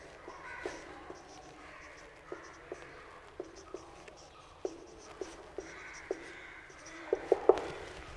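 Chalk or a marker writes on a board in a chemistry classroom, producing irregular light taps and scratches that come closer together toward the end, over a faint background murmur.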